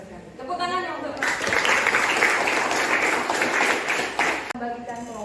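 Students in a classroom break into loud, sustained applause lasting about three seconds, with a teacher's voice heard briefly before and after.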